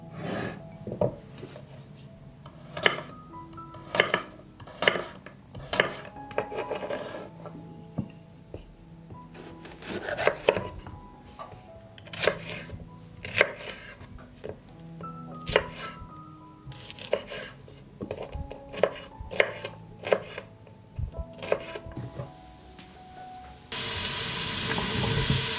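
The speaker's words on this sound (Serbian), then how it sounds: "Sada ću iseći papriku i šargarepu." Bell peppers and carrots chopped with a knife on a board, irregular sharp thuds in bursts, with a steady hiss of frying joining near the end.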